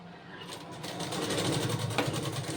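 Close, continuous whirring of a sewing machine stitching piping onto cloth, a steady rapid mechanical chatter throughout with no voices.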